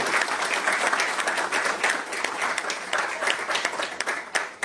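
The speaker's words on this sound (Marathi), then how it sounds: "कृपया दोघांसाठी टाळ्यांचा कडकडाट करा" A crowd at a journalists' association founding ceremony claps loudly for two invited young guests, with thick, sustained applause filling the whole stretch at close range.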